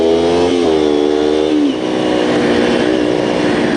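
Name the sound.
Kawasaki 250 Ninja motorcycle accelerating while feathering the clutch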